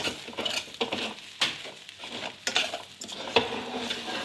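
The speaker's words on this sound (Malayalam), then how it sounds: "അത് നമുക്ക് ഇളക്കി കൊടുക്കാം." A spoon stirs chickpea masala with chili powder, turmeric and chicken masala in a pan. Rhythmic metallic scrapes and clinks sound close up over a soft sizzle, with no talking.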